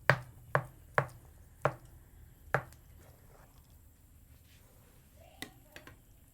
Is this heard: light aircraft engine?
no